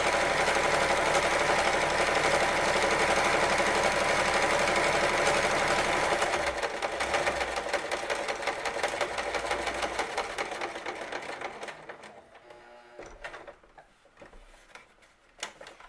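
A sewing machine stitches a seam on a quick fabric headband, running in a steady loud whir for about six seconds before slowing and stopping in short uneven bursts.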